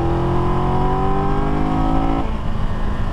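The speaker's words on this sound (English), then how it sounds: "and you go full throttle like this, that's when you get that roaring sound." A 2022 Triumph Tiger 1200 GT Pro sport-touring motorcycle's engine roars at full throttle above 4,000 RPM, a loud, steady, close drone that holds and then drops in pitch near the end as the revs shift.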